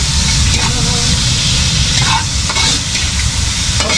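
Onion and garlic sauté in a pan with fish sauce, producing a loud, dense, continuous sizzle with light stirring scrapes throughout, heard close up and without talking.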